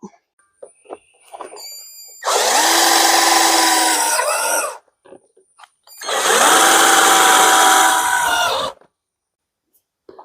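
A power drill drives screws while a rain gutter is being fitted, in two sustained whirring bursts of about two and a half seconds each. Each burst whines and shifts pitch as the screw bites, with short quiet gaps and faint clicks between.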